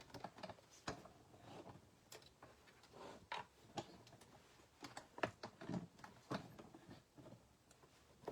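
Paper passes through a hand-cranked die cutting machine while making Christmas cards, producing soft, irregular clicks and ticks in a quiet room, with faint scattered rustles between them.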